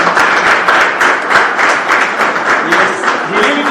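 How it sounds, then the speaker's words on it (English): Loud, close audience clapping at an interschool student debate competition, a dense steady patter throughout with a voice rising over it near the end. "So yes, you clap for him."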